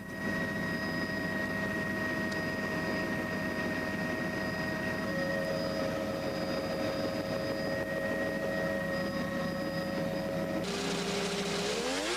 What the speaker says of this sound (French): Un autre machine à neige et au stand